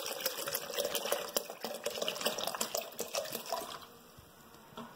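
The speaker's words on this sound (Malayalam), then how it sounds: "രണ്ട് ഗ്ലാസ് വെള്ളം ഞാൻ ഇതിലേക്ക് ഒഴിച്ചു കൊടുക്കാം." Water is poured into a blender jar of ground green mango for fresh juice, a steady splashing trickle that runs close for about four seconds and then fades off.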